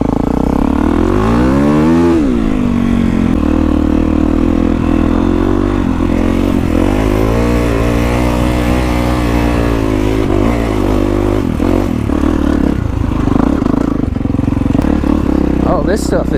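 Kawasaki KX450X dirt bike fitted with an FMF exhaust, ridden up rocky desert hill climbs: a loud, continuous engine drone that climbs and falls in pitch through revs, steady and close throughout.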